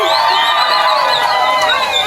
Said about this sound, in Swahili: Vigelegele na milunzi.